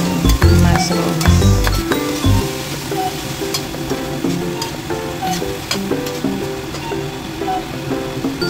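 Mushrooms tipped into a hot pan for a seafood carbonara pasta, with a loud burst of sizzling and frying, clinks and stirring scrapes, then a steady, close crackle continuing alone.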